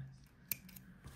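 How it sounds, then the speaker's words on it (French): A single crisp snip of scissors cutting a long length of embroidery thread in two, very quiet and close against near silence. "Comme c'est une grande longueur, je le coupe en deux"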